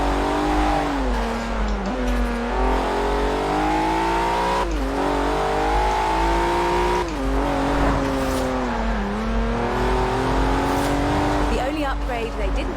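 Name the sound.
Lotus Carlton car driving in the video game Forza Horizon 4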